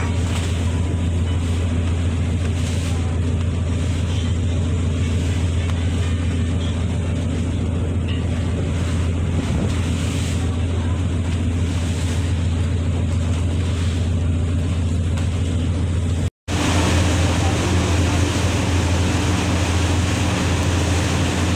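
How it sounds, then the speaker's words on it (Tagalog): Strong sea waves wash against a boat on a trip toward Masbate, heard as a loud, constant rumble of engine and water with gusty wind noise, broken by a brief cut before continuing just as heavily. "Medyo malakas na rin yung current ng alon."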